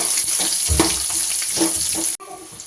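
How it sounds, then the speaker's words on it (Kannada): Chopped onions frying in hot oil, a loud close bright crackling sizzle with stirring scrapes that stops abruptly near the end, leaving a quieter background. "ಕೊಚ್ಚಿಟ್ಟಂತಹ ಈರುಳ್ಳಿಯನ್ನು ಹಾಕ್ಕೊಳ್ಳೋದು ಆಮೇಲೆ ಇದನ್ನು ಚೆಂದ ಫ್ರೈ ಮಾಡ್ಕೊಳ್ಳೋದು ಆಯಿತು"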